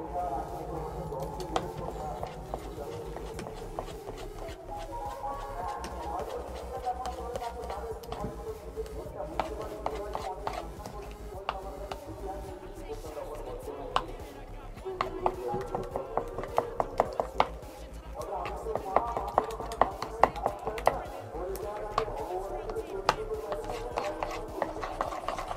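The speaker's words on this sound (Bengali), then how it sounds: "এইভাবে কিন্তু প্রায় 4 থেকে 5 মিনিট আমি খুব সুন্দরভাবে এইভাবে ফেটিয়ে নিচ্ছি" A whisk beats thick batter by hand in a bowl, making a steady run of quick scraping, rubbing and tapping strokes that gets louder and sharper toward the end, with someone talking over it.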